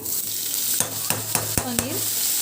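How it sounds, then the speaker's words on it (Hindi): Sabudana khichdi cooking in a Wonderchef kadai, a continuous sizzle punctuated by five or six sharp spoon knocks and scrapes against the pan in quick succession. "यहाँ हमारी साबूदाने की खिचड़ी बन रही है।"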